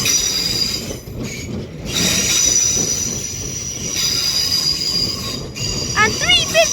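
A London Northwestern Railway train at London Euston screeches with high, sustained wheel squeal over steady rail rumble, swelling and fading in waves, with a brief warbling tone near the end.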